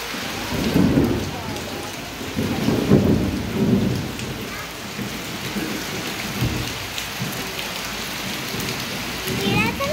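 Heavy afternoon rain pours steadily on surfaces while repeated low rumbles of thunder roll through, loudest in the first few seconds, with no clear talk.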